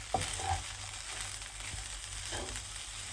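Egg added to a pan of separated rice frying with a steady sizzle, a couple of soft knocks near the start, no talk.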